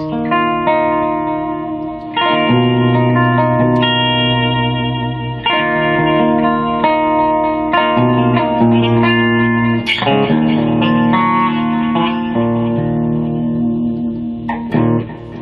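Clean electric guitar through a delay effect plays a slow sequence of notes and chords, each trailing into repeating echoes that blur together, with no voices.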